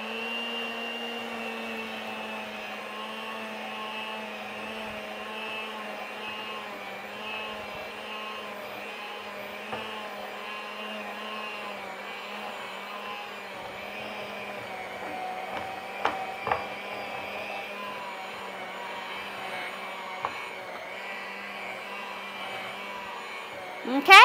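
An electric mixer whirs steadily in a bowl of all-purpose flour, a constant mid-level motor hum with slight pitch wavering and a few faint clicks.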